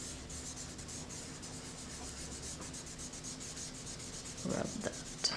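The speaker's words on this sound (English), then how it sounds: "I can also use a tissue to smudge" Tissue rubs graphite pencil shading on paper during a pet drawing, a soft rhythmic scratchy rubbing of repeated quick strokes, faint and close, with a brief louder handling noise near the end.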